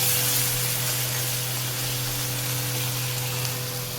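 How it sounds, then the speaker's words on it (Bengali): Bhetki fish sautéing with ginger paste in a hot pan, giving a continuous close sizzle and hiss over a steady low hum, with no distinct stirring hits; no talking. "আদা বাটা দিয়ে কষতে থাকবো আমি"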